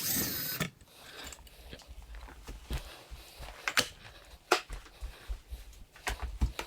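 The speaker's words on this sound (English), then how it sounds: "I do like how intuitive, kind of like this screwdriver is, just to use." A ratcheting screwdriver takes screws out of a ceiling fan, giving quick runs of close, dry ratchet clicks in uneven bursts with small rubbing and handling noises between them.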